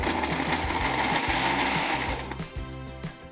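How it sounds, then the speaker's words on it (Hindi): A mixer grinder whirs in loud, steady bursts as fresh white bread is blitzed into crumbs, the motor pulsing a few times before easing off near the end. "तो ये ब्रेड जाएगा मिक्सर ग्राइंडर में,"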